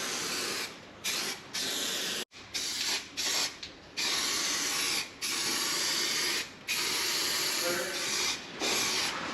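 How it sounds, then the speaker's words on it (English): Aerosol spray can paint hissing onto a fiberglass van side flare in a workshop, in repeated bursts of steady close spray separated by brief pauses, no talking. "I'm really surprised how well these spray cans work."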